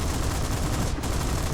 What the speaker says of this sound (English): We have a good cannon, a 20mm Hispano with 60 rounds.